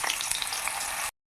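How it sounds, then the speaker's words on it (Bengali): Potatoes frying in hot oil in a pan where pointed gourd was just fried, a steady dense sizzle and crackle up close for about a second before cutting to silence. "এবার ওই তেলে আলুগুলোও ভেজে নেব"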